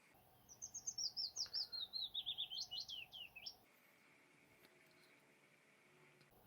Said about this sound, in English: Willow warbler, almost certain.